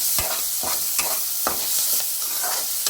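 Ginger garlic paste stirred and frying in a pan for a green chilli, broad bean and tomato curry: steady close sizzle with a spoon scraping through it in regular strokes about every half second.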